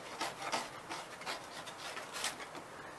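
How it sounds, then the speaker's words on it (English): A hand scraper rasps old, peeling paint off a wooden window frame in steady, close, repeated strokes, each a dry gritty scrape at moderate volume with no talking. "Scraper, getting off all this"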